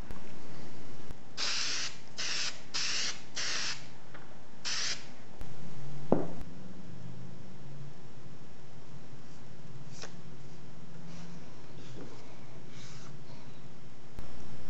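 Five short hissing bursts of spray adhesive in quick succession, close by, for fixing a paper pattern to walnut stock, followed by a quiet stretch with faint handling sounds.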